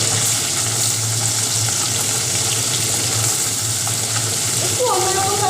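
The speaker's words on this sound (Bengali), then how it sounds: "মাছগুলোকে আগে ভাজা করে নিই।" Small fish frying in very hot oil, a steady dense sizzle and crackle that runs loud and close throughout.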